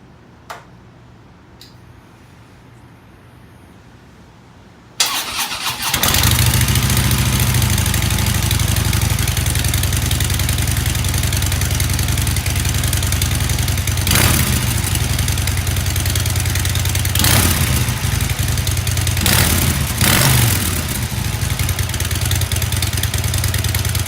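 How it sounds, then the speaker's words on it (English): After a quiet moment a 2017 Harley-Davidson Dyna motorcycle with stock exhaust starts and settles into a loud, steady, throbbing idle, with a couple of brief throttle blips. "let's get it started and see what it sounds like before you put the slip-on exhaust Python on"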